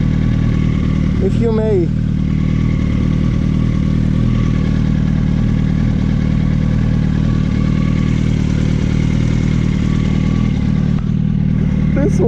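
A motorcycle engine drones steadily and loudly throughout a ride, a low continuous rumble with brief wind and clatter, while a voice speaks briefly near the start.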